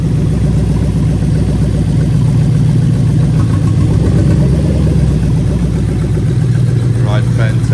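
A Toyota 1UZ-FE VVT-i V8 idles steadily just below 1,000 RPM, a loud, continuous low rumble with an even pulsing beat from start to finish, close by.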